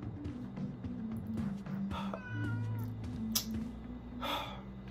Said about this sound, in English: Scare this cat! Scare it, Alex! Scare the cat!